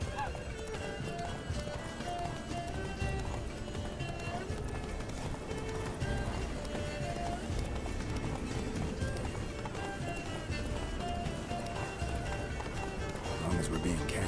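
The horse Roach gallops steadily in The Witcher 3, a continuous rhythmic clip-clop of hooves with an occasional whinny, layered under game music and characters talking throughout.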